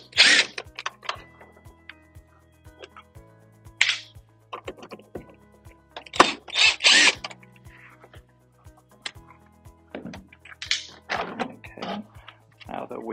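A power driver backs out screws on a DAB EsyBox pump in short, close whirring bursts with clicks and ticks between them, while a person talks over the work.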